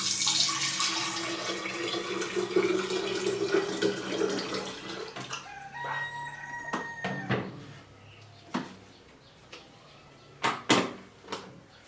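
Warm water poured for moringa tea, a bright splashing stream for several seconds that stops, followed by sparse clinks and drips in a quiet kitchen.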